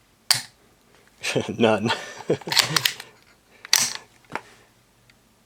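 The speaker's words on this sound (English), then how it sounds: "every time I rack the charging handle, I'm going to have to let the bolt go home" Sharp metallic clicks and clacks from an AR-15 being worked by hand: the charging handle racked, the bolt let go home, and the trigger tested. They come as separate close, crisp snaps with brief quiet gaps between them, and no voice is heard.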